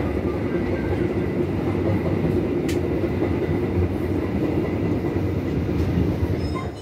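Pandalungan executive train rolling into Malasan station in Probolinggo, a loud, continuous low rumble of wheels and carriages with faint rhythmic clatter and a brief high squeal partway through.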